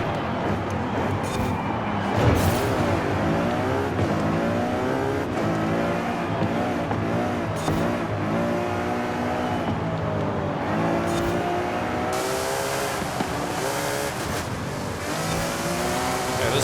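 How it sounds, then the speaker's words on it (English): Engine of a high-powered front-engine rear-wheel drive car in Forza Horizon 5, roaring loudly and continuously with repeated revving and gear shifts, rising and falling pitch throughout, with a brief tire squeal. "it's a high-powered front-engine rear-wheel drive car"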